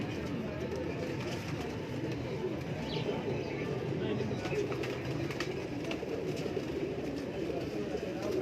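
Pigeons at a large breeding loft in Lahore coo steadily under a dense, continuous wash of ambient noise, the calls blending into a low murmuring texture throughout.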